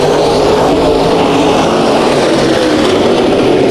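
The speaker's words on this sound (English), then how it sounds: "Sounds like someone's way on the rev limiter." IMCA stock race car engine at Bakersfield Speedway during a heat race, roaring loud and steady at full throttle against the rev limiter, a continuous dense engine drone with no talk.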